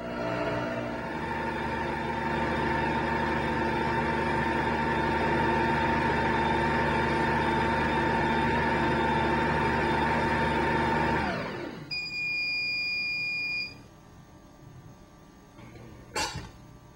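A Cuisinart machine kneads French bread dough at speed 3, giving a loud, steady motor whir that runs for about eleven seconds, then stops, leaving faint tones and a brief click.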